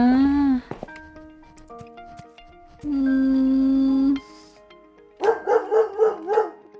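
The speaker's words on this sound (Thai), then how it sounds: "น้องหมาเห่าเลย" Dog at an animal shelter giving a few loud barks and yips in separate bursts, with a longer sustained vocal sound between them and no talk.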